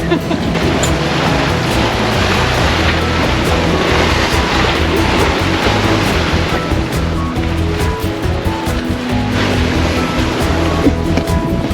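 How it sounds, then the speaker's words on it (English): Big ocean waves rushing and sloshing around a sailboat underway at sea, a loud continuous roar of churning water and surf with constant wind rumble, close and unbroken, with no talk. "The waves never show up big enough on camera, but let me tell you, the waves are huge."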